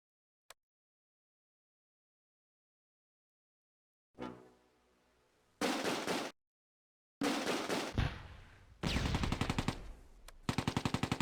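BAR automatic rifle fire in the Close Combat war game, with several loud, close bursts of rapid shots separated by short gaps, following a single faint click and a low rumble.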